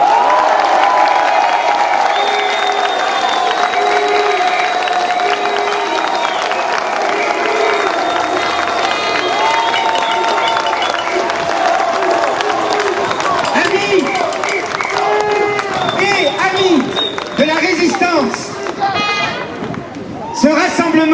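A large crowd at an open-air citizens' rally applauds and cheers to welcome a singer, a loud, continuous roar of clapping, shouts and whistles sustained throughout, swelling toward the end.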